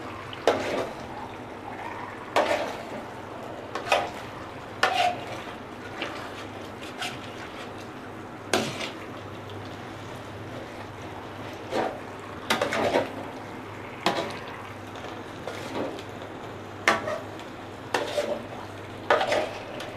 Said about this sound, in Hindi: इसको हमें साथ साथ हिलाते रहना है।